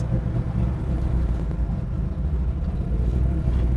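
A 1967 Chevrolet Camaro with a 4-speed runs through Flowmaster mufflers, giving a loud, close, steady low rumble that holds without any clear revs or breaks, and no one speaks over it.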